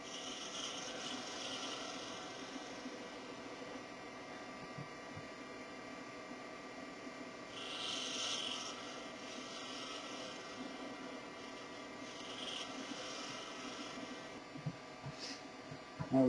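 An ebony miniature goblet base being shaped on a lathe gives a steady, faint rasping scrape, with low mechanical hum under it throughout.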